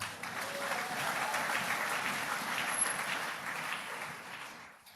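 A church congregation applauds, a dense, steady wash of clapping from many hands that holds for several seconds and fades out at the end.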